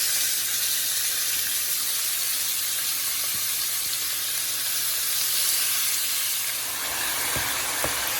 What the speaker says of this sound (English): We're gonna add in our ground beef,